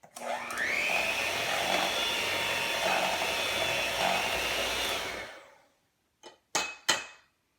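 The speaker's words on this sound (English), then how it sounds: "we're going to go back to the mixer and we're going to mix" An electric mixer beats batter for pineapple upside-down cupcakes, whirring steadily and fairly loud for about five seconds. It then shuts off, followed by silence and a few sharp clacks.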